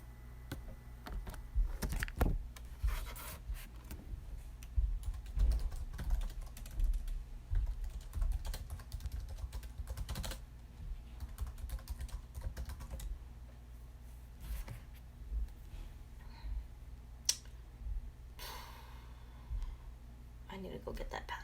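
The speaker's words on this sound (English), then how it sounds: "Intense keyboard noise. Sorry, I forgot how loud it can be." Loud computer keyboard typing clatters through most of the stretch in dense, irregular bursts, up close and dominant, with a steady low hum underneath.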